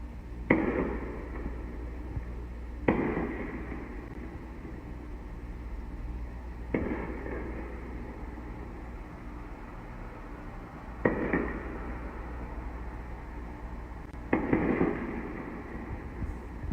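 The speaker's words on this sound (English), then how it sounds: "they heard far more than 12 explosions" Several distant booming explosions of ATMs being blown up, spaced a few seconds apart, each a sharp thud with a rolling tail, over a steady low background rumble.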